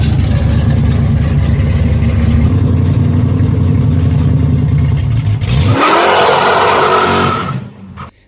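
A 1969 Dodge Charger Daytona muscle car engine revving loudly up close: a deep, steady rumble that climbs sharply in pitch toward the end, then cuts off.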